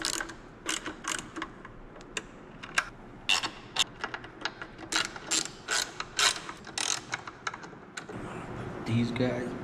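A ratchet cranks on the headlight bolts of a Harley Road Glide, producing close, crisp bursts of rapid clicking strokes with short pauses between them. Someone speaks briefly near the end.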